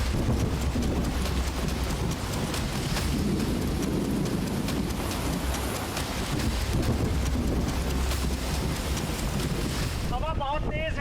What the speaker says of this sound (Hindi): हवा बहुत तेज है, बारिश है